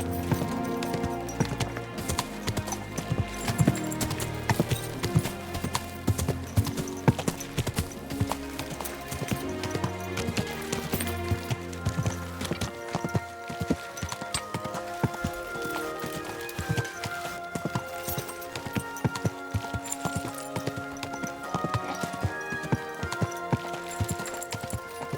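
Horse hooves clip-clop steadily at a walking rhythm in Kingdom Come Deliverance 2, close and continuous, with background music underneath and occasional voices.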